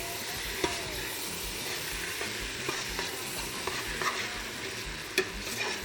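Plenty of red onions softening in a pan, a continuous gentle sizzle with occasional stirring clicks and taps from a utensil, close and moderately quiet, no talk.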